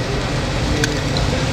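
Garlic sizzles in a hot pan in a Chicago restaurant kitchen, a loud, steady, broadband hiss of frying that runs unbroken for the whole moment with no voices over it.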